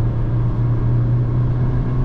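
A Renault Koleos 1.6 petrol SUV with a 130 hp engine and CVT gearbox accelerating on a wet road after rain, its steady low engine drone heard from inside the cabin, continuous and even, with no one speaking.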